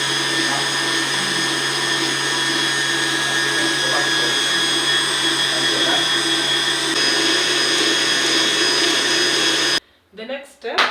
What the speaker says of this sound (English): you can turn your mixer up to number 4